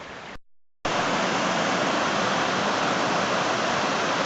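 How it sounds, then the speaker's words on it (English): Creek water running down from a hillside ravine makes a steady, dense rushing hiss after a short break, loud and unbroken with no voices. "It's all coming off the hillside on the south side of the ravine into the creek."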